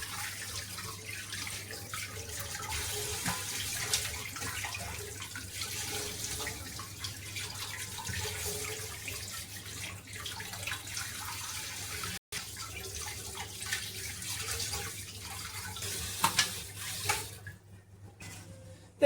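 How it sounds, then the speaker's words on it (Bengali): Small fish washed under a running kitchen tap, a steady broadband rush of flowing water with faint splashing and handling throughout, close and fairly quiet, with no talking. "এবারে এগুলো জল দিয়ে ভালো করে ধুয়ে পরিষ্কার"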